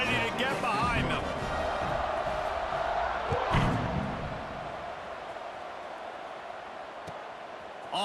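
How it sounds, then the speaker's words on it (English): Stadium crowd at a college football game between Louisiana and Army at the start of the 2023 season, a broad roar of cheering at steady loudness under a play-by-play announcer's commentary, with a brief swell near the middle. "this crowd now ready to get behind them"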